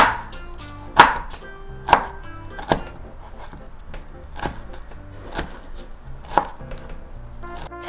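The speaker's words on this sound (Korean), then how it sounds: "노란 파프리카도 조금만 써볼게요" A knife chops through a yellow bell pepper on a cutting board, about eight distinct crisp knocks at an uneven, unhurried pace, close and clear.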